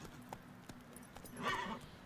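A horse in the video game Witcher 3 clip-clops along in quick, soft hoofbeats, a faint snort or whinny rising briefly partway through, with no talking.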